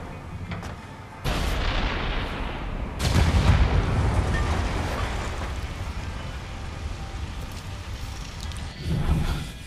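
Heavy explosions tear apart a Mobile Command Center in the inFAMOUS Second Son video game, loud booming blasts rolling into a sustained rumble with debris, with a second burst near the end.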